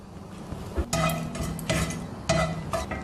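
Loud bursts of crackling and popping from cinnamon and cloves hitting hot oil, coming in several sharp waves over a low steady hiss, close by.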